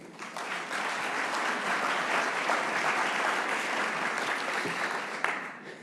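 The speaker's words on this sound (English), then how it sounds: "I think that's worth a round of applause" Sustained applause from an audience at a community presentation on the urban forest, a dense steady clapping that holds at even strength for several seconds before a final sharp clap.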